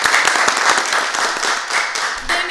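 Live audience at a round-table panel in a hall applauding a speaker's introduction, rapid dense clapping that keeps going without pause and fades near the end into a low room tone.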